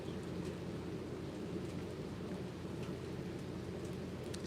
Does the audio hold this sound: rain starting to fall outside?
yes